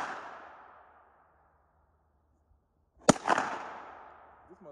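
A single loud gunshot from a KRISS Vector Gen II rings out after a stretch of near silence, its sharp crack followed by a brief decaying echo, with a fading whoosh-like tail of noise before it.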